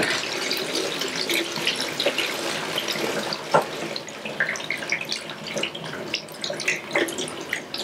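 Plantains washed under a running kitchen tap, a steady close rush of water with irregular splashes and hand-rubbing sounds throughout, no talking.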